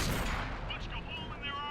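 A tank cannon fires and its shell strikes in World of Tanks: a loud blast opens the clip, then a rumbling decay mixed with faint ringing effects.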